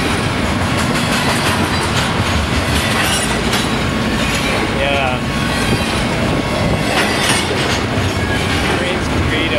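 BNSF freight train passing very close in Victorville, a loud continuous roar of wagons with rattling wheel clatter and brief squeals, strong rushing air throughout; a voice briefly speaks once.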